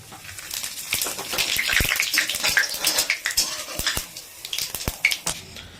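Whole spices hit hot oil for a Bengali mutton and potato curry, giving a steady hissing sizzle with sharp popping crackles scattered throughout, close and fairly loud, with no talking.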